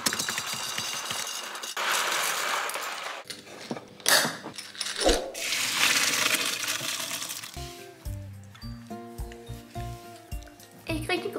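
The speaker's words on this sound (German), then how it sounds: "Und währenddessen fülle ich meine hübschen Nudeln in ein Glas." Dry fusilli pasta pours into a glass jar with a dense rattling clatter of hard pieces against glass for several seconds, followed by short bursts and then a light musical tune.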